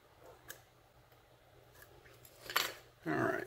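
Picking a Sas Pes 002 lock with a hook gives faint, tiny clicks from the pins, followed by louder metallic rattles and handling noise near the end.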